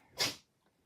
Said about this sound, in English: That's the cat sneezing.